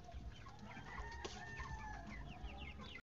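A crowd of young broiler chicks peeps in a dense, continuous chorus of high chirps, steady and close throughout.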